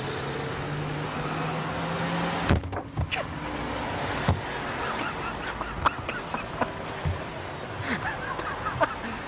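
A person bumps into the trunk of a parked car outside a bed and breakfast, giving a sharp thud followed by a few lighter knocks amid outdoor street noise.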